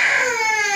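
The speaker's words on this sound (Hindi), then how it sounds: "पर बच्चा रो रहा है" An infant cries in a single sustained, loud wail at close range, with no talking over it.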